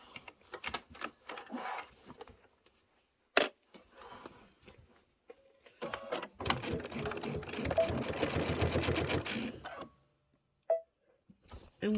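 A sewing machine stitches a quarter-inch seam around a pillow at a 2.5 stitch length, first in short rapid bursts and then in a steady run of fast, close mechanical ticking lasting a few seconds, quiet and nearby.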